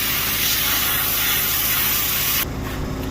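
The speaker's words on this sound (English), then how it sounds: "I'll turn my air pressure down so I can get a little bit more uniform spray" Airbrush spraying paint with compressed air while painting a mallard's beak and legs, a loud steady close hiss that cuts off abruptly, leaving a faint background hum.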